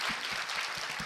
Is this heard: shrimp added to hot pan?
no